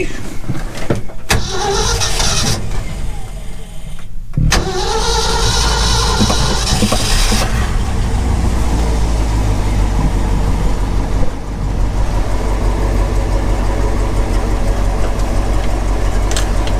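An old camper's engine cranks over with the choke pulled, catches, and settles into a loud, steady running rumble that carries on to the end, with a brief sputter early on before it fires.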